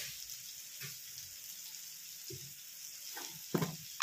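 Cumin seeds sizzle softly in hot oil in a pan for a North Karnataka-style brinjal curry, a steady low frying hiss with a few brief stirring scrapes near the end.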